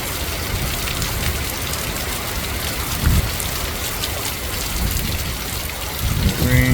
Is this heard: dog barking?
no